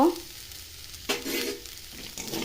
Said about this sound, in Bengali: এখন মশলাটা প্রায় ভাজা ভাজা হয়ে গেছে